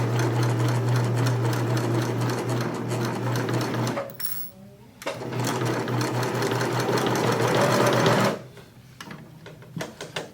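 Sewing machine stitching fringe on handwoven kitchen linens runs in steady loud bursts, pausing briefly near the four-second mark and stopping again after eight seconds, with no talking.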